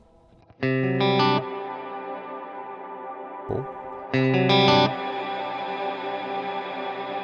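Reverb effect on a tonal synth or instrument, shaped with low and high cut filters: two bright sustained chords swell in and hold with a long reverberant tail, broken by a brief low thump midway, while a voice speaks briefly.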